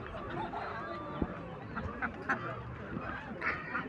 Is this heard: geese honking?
yes